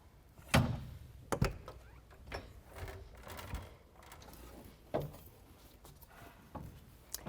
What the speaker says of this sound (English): Over here are your entry door steps. They just fold down and fold back up just like this.